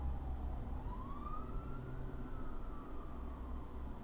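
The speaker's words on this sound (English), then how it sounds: "Siren!" A distant siren wails, rising and falling slowly over a constant low rumble of traffic.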